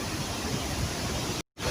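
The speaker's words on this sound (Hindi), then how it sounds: "ये दूध सागर वाटरफॉल है" Dudhsagar waterfall in Goa roars as a dense, constant broadband rush, loud and near, briefly dropping out to silence before resuming.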